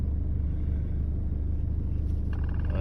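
A diesel car engine idles after a tuning chip has been fitted, giving a steady, close, low rumble that holds even and unbroken throughout with no talking.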